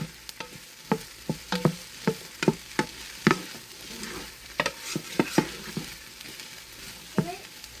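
A pot roast sears on the saute setting of an Instant Pot, with a soft sizzle under repeated sharp utensil knocks and scrapes against the pot, close by and without speech.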